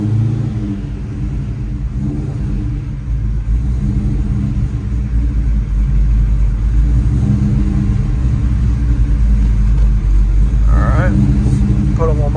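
A lowered car creeps up onto long ramps in a garage, its engine a deep, steady, close rumble with a slight rise in revs, while someone talks over it.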